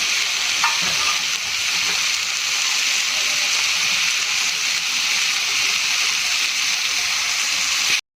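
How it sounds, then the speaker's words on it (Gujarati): Tomatoes sizzle in hot oil in a pan while a smoky begun bharta is being cooked, giving a steady loud crackling fry with a few faint clinks from stirring at the start, and no one speaking. "આપણે થોડું તેલ એડ કરી દઈશું જેથી આપણા ટામેટા જલ્દીથી ફ્રાય થઈ જાય"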